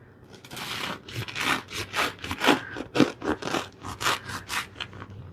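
A knife saws through a crusty bread roll for a milanesa torta, giving a run of rough, crunchy scraping strokes that rise and fall in a steady back-and-forth rhythm, close up with no talking.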